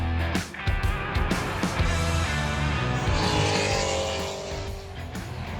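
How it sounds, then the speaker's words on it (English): A BMW race car, driven hard at Brands Hatch circuit, sweeps past with a loud rising and falling engine roar, and the tone shifts as it passes and fades away, with no talk over it. "That was a BMW."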